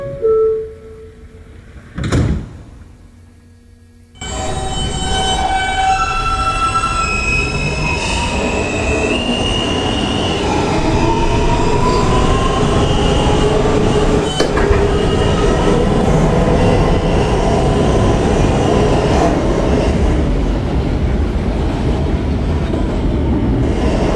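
An R160 N local subway train in New York, Queens-bound from Bay Ridge toward Astoria, heard from inside: a brief quiet pause, then a loud sustained roar of running with squealing wheels and rail clatter continuing throughout.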